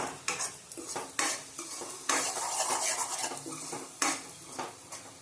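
Potato curry being stirred in a pan, with a utensil scraping and clattering against the metal in repeated close strokes while the curry sizzles steadily beneath.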